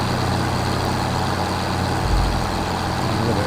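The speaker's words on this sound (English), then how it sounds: "Sounds like it needs a bit of a tune, this tractor." Tractor engine running rough in the Farming Simulator 25 video game, a steady dense drone with a low throbbing rumble and slight unevenness, constant and close with no talk over it.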